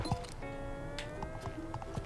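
Horse hooves clip-clopping in a SpongeBob SquarePants video game, a few scattered hoof knocks against a sustained musical tone, fairly close and without talk.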